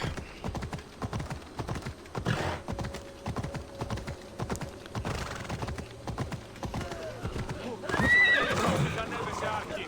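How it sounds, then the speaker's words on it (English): In Assassin's Creed Odyssey, a giant flaming horse whinnies and its hooves clatter in quick rhythm amid game effects and clicky tapping, with a louder rush of sound near the end. "A giant flaming horse riding through a bunch of 6 people."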